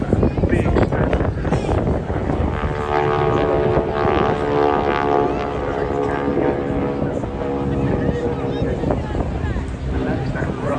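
A Pratt & Whitney R-985 radial engine, rated around 450 horsepower, rasps loud and steady on a propeller aircraft at a Swansea airshow, its drone carrying continuously beneath a commentator's talking.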